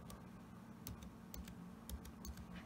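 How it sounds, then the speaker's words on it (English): Slow, sparse keystrokes tap on a computer keyboard, a few separate clicks spaced unevenly over a quiet background. "With very slow typing."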